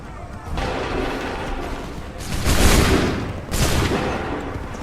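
Soldiers fire a musket volley in the battle of Lexington and Concord in Assassin's Creed 3, heavy booming blasts that swell in several rolling waves amid battlefield noise.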